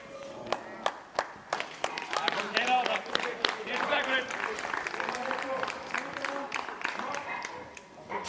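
An audience at an Icelandic powerlifting championship breaks into scattered applause, sharp individual claps building into a fuller patter, with a voice talking over it.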